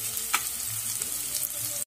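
Onions frying in oil in a pan on a home stove for a Marathi onion bhaji, a steady close sizzle with a brief clink of the spoon as they are stirred.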